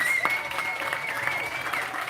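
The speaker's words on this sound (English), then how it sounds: "We need to give this trailblazer, our legend, our hero, another round of applause for 100 years." An audience applauds a 100-year-old honoree, Leon L. Williams, at a life achievement award event: steady, dense clapping that holds at an even level throughout, with a thin sustained tone running beneath it.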